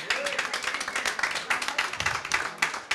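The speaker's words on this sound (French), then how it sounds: "Et qu'on peut applaudir." Clapping from a New Year's Eve live-show audience, loose and uneven with distinct individual claps, close and fairly loud.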